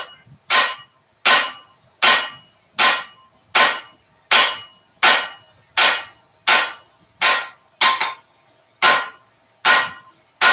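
Steady hammer blows ring on an anvil while a flatter top tool is forged, about fourteen sharp metallic strikes in an even rhythm, close and loud with no talking.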